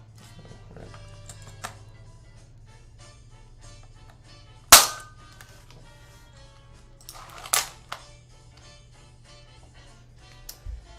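A Shellington Wingchester toy shell-ejecting blaster dry-fires with one sharp loud snap, then a second smaller click a few seconds later, amid faint handling noises.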